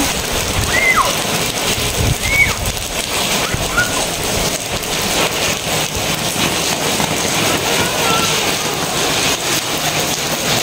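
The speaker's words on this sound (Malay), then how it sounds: "Wah, seronoknya main hujan." Steady heavy rain pours down in a continuous dense hiss while children play out in it, with faint brief chirps surfacing above the downpour.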